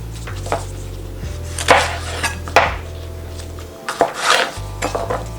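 A knife cuts a soft pepper on a cutting board, giving a handful of crisp, close chops and knocks at uneven intervals over a low steady hum, with no talking.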